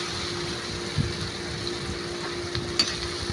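Shrimp paste (bagoong) sautéing with boiled mung beans in a pan produces a gentle, steady sizzle with soft stirring scrapes and a couple of light clinks, fairly quiet and close.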